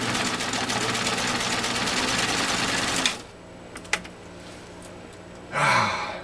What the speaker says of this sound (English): we'll see how this machine does sewing through 3 layers of genuine cowhide, executing a zigzag stitch